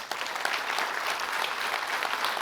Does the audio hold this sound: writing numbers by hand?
no